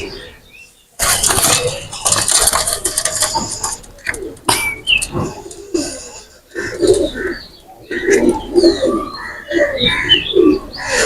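Two Pakistani pigeons released from the hand flap off with a burst of wingbeats, followed by soft cooing and chirps close by.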